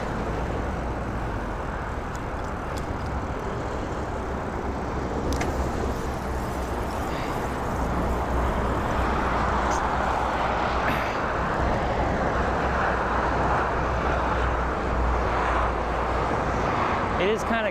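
Freeway traffic roars beside a cyclist riding along a path, a loud, continuous broadband rumble that swells slightly toward the end, with wind noise mixed in.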